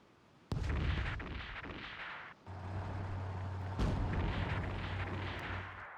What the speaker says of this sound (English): they got naval gunfire in the area